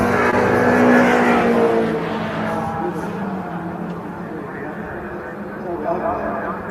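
MG Cup race cars cross the start-finish line at a circuit, engines roaring loud and close at first, then fading as they pass, with a commentator talking over the noise throughout.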